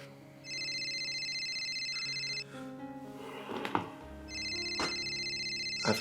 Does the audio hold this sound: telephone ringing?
yes